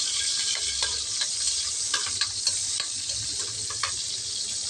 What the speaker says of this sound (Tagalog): Gisayin na po natin ang sibuyas.